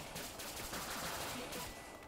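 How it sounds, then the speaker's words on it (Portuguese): Rapid gunfire from the video game 20XX, a dense, continuous burst of shots and effects filling the whole moment without pause, fairly loud against a busy game soundtrack. "Ele me deu um tiro aqui"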